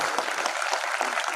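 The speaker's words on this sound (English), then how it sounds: "Round of applause for that guy." A brief, full round of clapping from an audience at an entrepreneurship event at the Indira Group of Institutes in Pune, dense and steady without a break.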